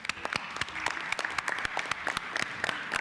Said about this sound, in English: a big applause to all the participants